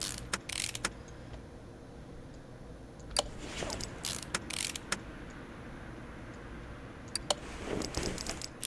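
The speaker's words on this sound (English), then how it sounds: "you can still apparently screw screw the bolts back in" In the Car Mechanic Simulator 2018 video game, bolts are screwed back in with a tool, giving a run of short mechanical ratcheting clicks over a steady background hum.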